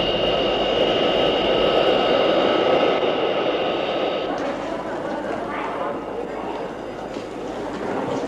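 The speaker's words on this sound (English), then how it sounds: "The Paris flight has just landed" A jet airliner landing at an airport, heard as a loud, steady broadband roar that eases slightly partway through, with faint voices in the background.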